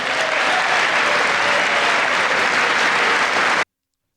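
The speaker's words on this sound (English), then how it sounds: "just another example of the applause that he would often get" Sustained, dense applause for the president at the State of the Union in 2026, loud and steady throughout before cutting off abruptly near the end.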